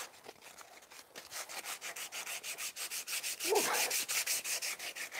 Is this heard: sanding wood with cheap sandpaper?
yes